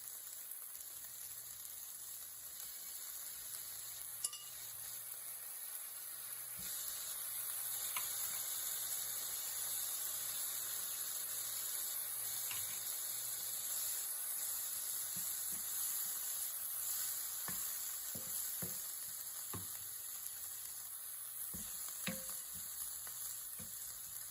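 Olives, capers and dried oregano cooking in a pan with ground beef vegetables, a steady quiet sizzle with occasional stirring scrapes and small ticks, continuous and close.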